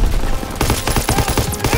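Sustained machine gun fire in the Call of Duty World War 2 game, a loud rapid burst of shots with dense rattling repetition that fills most of the clip, near and alone.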